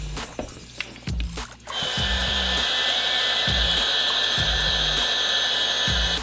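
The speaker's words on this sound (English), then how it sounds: "you can either use a hair dryer or a heat gun to heat up this wire cover" A hair dryer runs steadily and loudly, blowing hot air onto a heat-shrink wire cover while adapting a Rollin' Rovee toy; a few handling clicks and knocks come first, then the continuous whir takes over for the rest.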